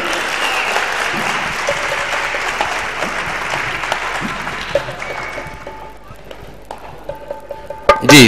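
An audience at the Hunar Mela 2011 artisans' fair stage event breaks into sustained applause that gradually thins after about five seconds, leaving scattered claps, faint crowd noise and a few louder knocks.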